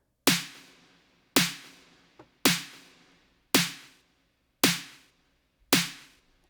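Six evenly spaced EDM snare hits, each with a sharp crack followed by a tempo-synced gated reverb tail that cuts off abruptly, played alone and loud at a steady rhythm.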